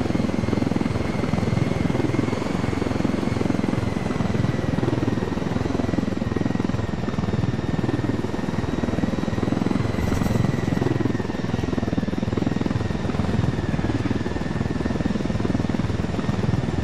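A helicopter in the Ghost Recon Wildlands closed beta makes a loud, steady rotor drone with a whining turbine tone that holds unbroken throughout and sounds near.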